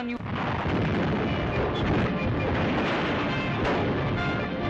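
Heavy artillery fire from the 1938 Sino-Japanese war rumbles in a loud, dense, continuous roar of blasts with a sharp boom at the start, heard in a newsreel soundtrack.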